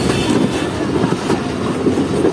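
The Jaffer Express rumbles steadily as it crosses from a loop line onto the main line, with continuous loud wheel and carriage noise and faint rhythmic clatter throughout.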